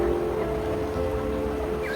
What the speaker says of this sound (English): Rain, ocean waves, flowing rivers,